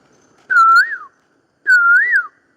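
Someone whistles two rising-and-falling calls imitating a cuckoo, clear and close, separated by a brief pause.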